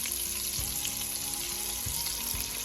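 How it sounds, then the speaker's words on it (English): Chicken thighs searing in a hot pan of melted fat for a one-pot chicken and rice dish, giving a steady close sizzle with soft bubbling and a few low knocks and clatters underneath. "I'll make sure I turn it for the back to be searing down in the pan"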